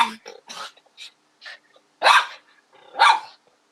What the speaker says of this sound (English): Lolly, stop barking at me, Lolly.